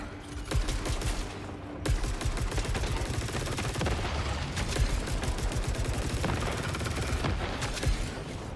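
Rapid bursts of automatic gunfire from a weapon in a Final Fantasy XIV shooting sequence against a spaceship enemy, loud and nearly continuous with brief pauses, dense rattling volleys throughout.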